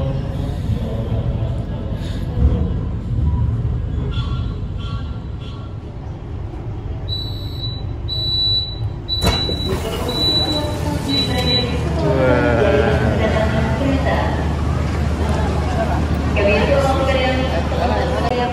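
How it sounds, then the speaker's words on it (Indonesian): Crowded platform at Lempuyangan railway station, Indonesia, with a steady hubbub of many passengers' voices, a brief chime-like tone partway through, and close talk over the babble. "kita udah sampai di stasiun Lempuyangan"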